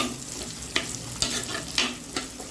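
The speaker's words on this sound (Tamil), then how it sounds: "நல்லா நம்ம எண்ணெயிலே வதக்கலாம்." Fish curry ingredients sauté in hot oil in a pan, a close steady sizzle punctuated by several regular scrapes and knocks of a spoon stirring.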